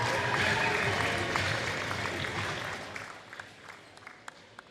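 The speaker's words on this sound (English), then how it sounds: "Big round of applause for Adrian" A crowd at a high school basketball game applauds a player, a moderately loud wash of clapping that gradually thins and fades into scattered claps at the end.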